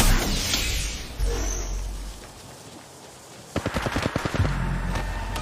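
Gunfire in the mobile shooter Apex Legends Mobile: distant shots and ambient rumble give way to a close, rapid burst of automatic fire, about a dozen sharp cracks in quick succession.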